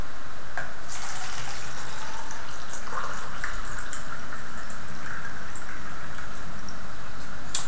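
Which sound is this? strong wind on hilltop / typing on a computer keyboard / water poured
water poured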